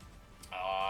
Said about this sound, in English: I have a cat, Guppy. He loves to interrupt stream all the time.